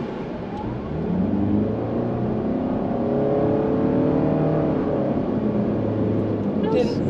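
A Toyota Sienna minivan in eco mode pulls away from a stop, its engine drone rising steadily and holding at a strong, even level from inside the cabin, with voices faintly present.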